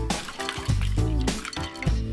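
Fennel is drained from a bowl of ice water, with close sloshing, splashing and trickling water in a home kitchen, loud and uneven with brief gurgles.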